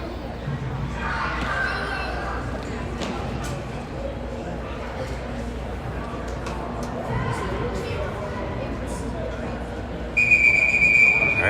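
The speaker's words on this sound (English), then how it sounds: "All right, there's the whistle." A referee's whistle at an ice hockey game between the Lakers and South Dakota gives one loud, sustained blast near the end, cutting through crowd noise and arena chatter.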